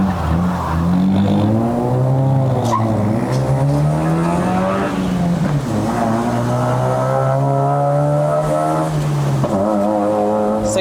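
A Honda City GM6 with a 1.5-litre single-overhead-cam L15Z engine and a six-speed manual gearbox, driving a mountain road to Genting in Malaysia: a loud, close engine drone rising and falling through revs and gear changes, with no talk.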